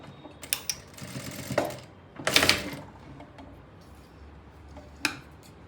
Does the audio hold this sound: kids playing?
no